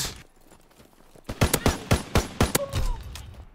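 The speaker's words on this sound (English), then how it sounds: "Oh, I thought that was an automatic gun." Automatic gunfire in the Call of Duty: World War 2 gun game mode crackles as a rapid series of sharp shots after a quieter start, then trails off into fainter noise.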